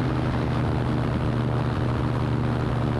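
Seaplane engine throttled back on a water landing approach, a steady low propeller drone with a constant hum running evenly throughout, close and moderately loud with no talk over it.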